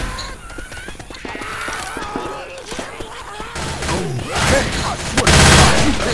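Gunfire in the Left 4 Dead 2 video game, with shots and mechanical clatter mixed with other game sounds, building louder toward the end.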